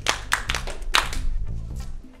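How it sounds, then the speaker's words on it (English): A classroom of students claps for a classmate in a short burst of sharp, uneven hand claps, loudest at the start and fading into quieter scattered claps within about two seconds. "Clap for him."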